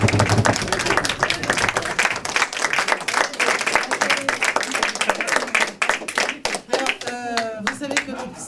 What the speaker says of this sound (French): on les applaudit encore du fond du cœur